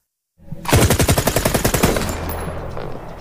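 A loud burst of AK-47 automatic rifle fire erupts after a brief silence, rapid evenly spaced shots followed by a lingering rumbling echo.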